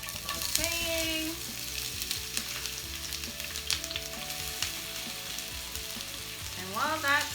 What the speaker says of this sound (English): So let's start sauteing.